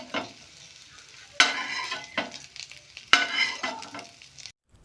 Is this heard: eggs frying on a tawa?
yes